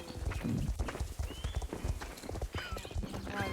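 Video game foal with repeated clip-clop hoof steps and a short neigh, heard at moderate level over faint background speech and game ambience.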